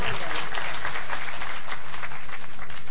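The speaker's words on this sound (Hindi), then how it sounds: "मुंतजर मेहदी साहब के लिए जोरदार किस्म की तालियां" Loud, dense applause from a large audience at a motivational speech in honour of Muntazar Mehdi, a continuous roar of many hands clapping together without a break, with a low steady hum beneath.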